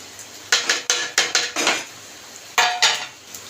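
Semiya kesari being stirred in a pan with roasted cashews, raisins and cardamom, a quick run of sharp metal spoon clinks and scrapes against the pan, then a pause and a few more loud knocks, close and alone.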